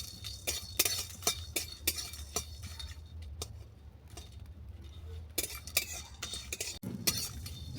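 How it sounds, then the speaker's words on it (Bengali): Whole spices such as peppercorns and five-spice seeds being dry roasted in a pan, with repeated sharp clinks and scraping taps of a utensil against the pan, irregular and close, with quieter stretches between bursts. "এই সব উপকরণ আমি ভালো করে ড্রাই রোস্ট করে নিচ্ছি।"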